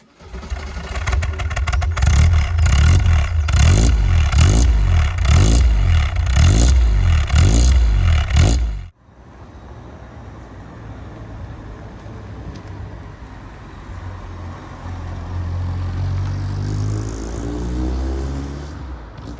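A Ford Escort XR3 convertible engine runs loud and close with rapid rhythmic pulsing, then a sudden cut to a quieter, smoother drone that rises and swells toward the end.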